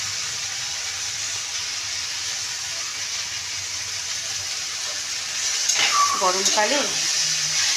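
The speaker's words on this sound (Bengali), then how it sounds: "এগুলো একদম ভাজা ভাজা হচ্ছে" Vegetables for shukto frying in a pan, a steady, soft sizzle and hiss throughout, close by, with someone speaking near the end.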